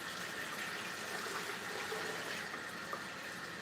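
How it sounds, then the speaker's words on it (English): Water pours from a four-cup measuring cup into a new electric canner as a continuous splashing gush, fairly quiet and with no talking. "I pour it down in there,"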